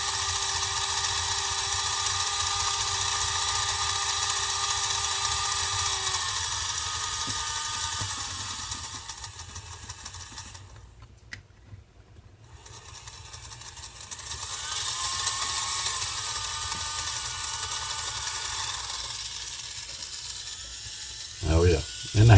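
A 1968 Tyco 4-6-0 model steam locomotive creeps along at very slow speed, then reverses, giving a steady whirring, ratcheting motor hum that briefly pauses in the middle before resuming.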